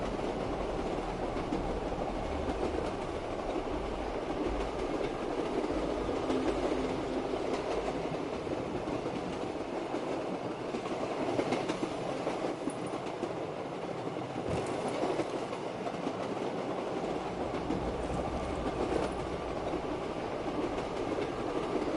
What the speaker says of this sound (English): Maybe I should just keep riding the train.